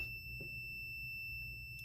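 Steady electronic tone from a multimeter's continuity buzzer held on a shorted 19 V line of a laptop motherboard, sounding continuously and moderately loud over faint room hum, with no talk.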